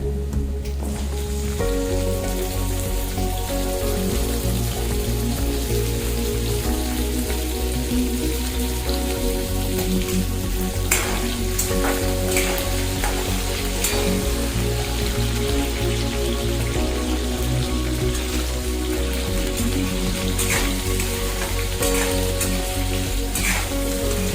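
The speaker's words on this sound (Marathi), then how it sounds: "तेल गरम झालंय की आपण आधी बटाटा टाकून घेऊया। बटाटा थोडा फ्राय झाला की त्याच्यामध्ये फ्लावर टाकून घेऊया।" Potato and cauliflower pieces sizzle in hot oil for a mixed vegetable dish, a steady, dense crackling fry that stays loud and even throughout with no talking.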